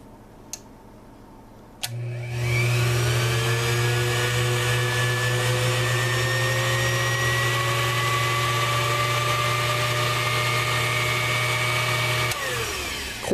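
An old thrift-store kitchen appliance with a US-made electric motor switches on with a click and runs with a steady, loud whirring hum for about ten seconds, then is switched off and winds down.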